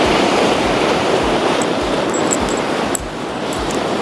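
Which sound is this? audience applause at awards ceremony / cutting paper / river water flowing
river water flowing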